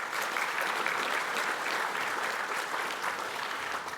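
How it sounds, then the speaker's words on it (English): A large awards-night audience applauds for a judge at a business awards ceremony, dense and loud, sustained evenly for four seconds with no voices over it. "Round of applause for Alan Ginchel."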